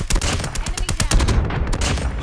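Sniper and other gunfire rattles in a first-person shooter video game, a dense burst of rapid sharp shots with loud crackling blasts packed together up close.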